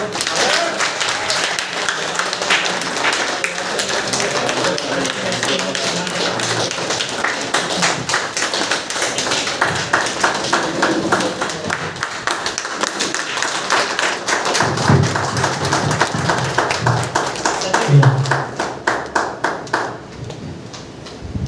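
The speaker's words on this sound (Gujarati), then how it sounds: "તાળી ચાલુ રાખો" An audience at an award ceremony keeps up long, dense clapping, with sharp close claps packed into a steady rhythm that fades near the end, while a voice speaks over it on a loudspeaker.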